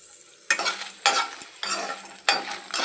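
Dried red chillies frying in a little oil, bursts of crackling sizzle coming in several short waves as they are stirred, close and soft, with no voices.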